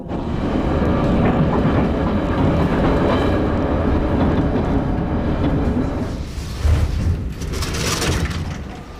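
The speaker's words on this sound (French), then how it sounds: "wagon ou train rétro de 1935, numéro 1, le voilà" A retro 1935 metro train car rolls along the rails, a loud, continuous rumble with clattering and rattling that shifts in texture toward the end, heard up close without talk.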